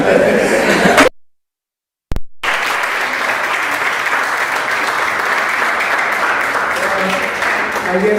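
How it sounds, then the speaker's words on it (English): Debate audience applauding speaker number two: a loud, dense wash of clapping that cuts out briefly near the start, then continues steadily, with faint chuckles mixed in. "Round of applause, speaker number 2"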